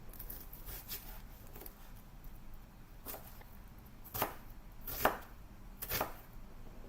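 A knife chops onions on a board in a home kitchen, a series of quiet, irregular cutting thuds that grow louder and more distinct toward the end.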